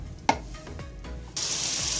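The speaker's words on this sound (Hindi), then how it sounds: "मैंने 1/2 कप ऑयल लिया, इसमें ऑनियन ऐड करेंगे और इसको हम फ्राई करेंगे" Onions dropped into half a cup of hot oil, a sharp clatter and a few knocks, then a sudden loud steady sizzle rising and holding close by.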